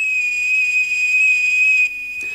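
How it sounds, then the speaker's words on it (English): A kettle whistles with a steady, piercing high tone over a soft boiling hiss, the pitch holding nearly constant before dropping slightly near the end. "as she heard the boiling kettle whistle."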